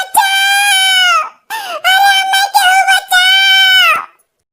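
A cartoon woman lets out long, loud wailing cries in several sustained bursts with short breaks between them, high and strained, heard close with nothing else behind them.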